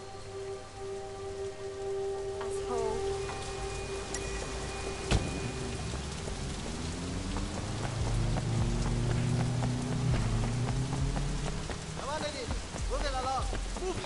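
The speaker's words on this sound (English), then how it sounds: "In the rain." Steady rain falls on surfaces during a rainy street scene in the video game Sleeping Dogs, a dense continuous patter under tonal music and passing sounds, with a few louder hits along the way.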